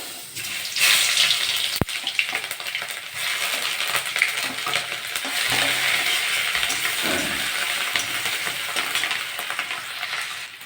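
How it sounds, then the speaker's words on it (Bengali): Garlic and ginger frying in a pan for a banana-flower and potato ghonto, a steady broad sizzle running throughout with stirring scrapes and one sharp metallic clink near the start. "আদা রসুন একটু ভাজা ভাজা হয়ে গেছে"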